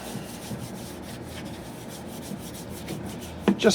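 A cloth rubs boiled linseed oil into a wooden rifle buttstock from a Lyman Great Plains rifle kit, giving a steady, close, continuous rubbing swish. A couple of louder scuffs come at the end, with no talk.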